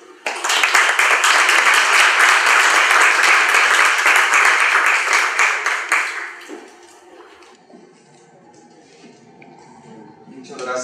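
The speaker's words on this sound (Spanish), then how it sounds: "Démosle un fuerte aplauso" Loud, dense applause from an audience at a forum on life and human dignity, a sustained wall of clapping for about six seconds before it tapers off into quiet room murmur and shuffling.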